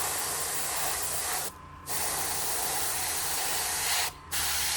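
Spray paint hisses from an aerosol can in two steady bursts, each a few seconds long with a short break between, close and loud.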